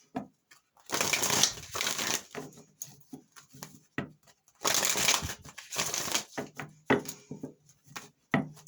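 Tarot cards are shuffled repeatedly up close, with bursts of riffling and soft slaps in an irregular rhythm.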